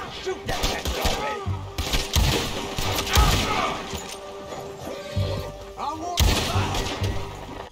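Gunfire in the Red Dead video game: a few scattered shots ring out over busy game ambience with horse sounds and voices.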